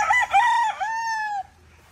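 A rooster crows once, loud and close, a drawn-out call that rises and then trails off into quiet.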